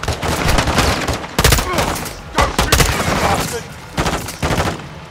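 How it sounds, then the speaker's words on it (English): Gunfire in the video game Modern Warfare 2: repeated loud bursts of shots in clustered volleys with short gaps, close and dominant throughout. "I should not be shooting behind them like this today."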